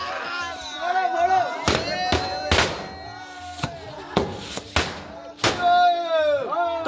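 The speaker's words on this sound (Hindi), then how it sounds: "ये है भाई हमारा रॉकेट जलाने वाला यंत्र, हम इसी के अंदर रॉकेट फिट करके ना ऊपर को उड़ा रहे" Diwali firework rockets set off from a handheld launcher tube in an Uttarakhand village, sounding as a run of sharp bangs and pops, some close and some farther off, spread through the clip, with people talking over them.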